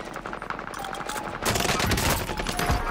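Dense, rapid automatic gunfire from a video game, continuous and loud throughout, growing heavier in the second half with overlapping shots and no clear gaps.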